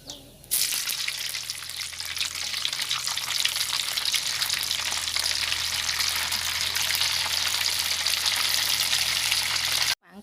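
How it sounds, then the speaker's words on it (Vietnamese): Pieces of wheat gluten (mì căn) fry in hot oil with a steady, loud, crackling sizzle that runs without a break for about ten seconds. "mình sẽ chiên thêm cái khác, chiên cho hết cái phần mì căng của mình"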